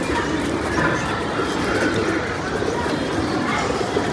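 Pigeons cooing in the open during a pigeon flying race as the birds come down to land, a steady cooing and fluttering bed under continuous outdoor noise, fairly close with no talk.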